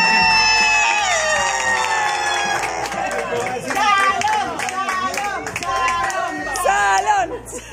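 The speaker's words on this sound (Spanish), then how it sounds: "Vamos a recibir acá con un aplauso bastante fuerte" A birthday celebration crowd claps and cheers loudly, with excited shouts and bright voices rising over dense clapping and background music, close and lively throughout.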